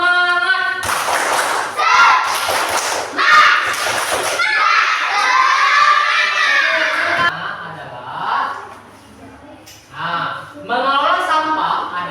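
An elementary school class in Langsa claps out a short spirited rhythmic routine, several loud bursts of clapping close together near the start, followed by a teacher talking and children's voices.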